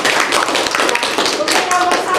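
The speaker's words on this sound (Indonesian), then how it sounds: "Tepuk tangan." Classroom applause from students, a dense burst of clapping at full loudness lasting a couple of seconds, with voices mixed in.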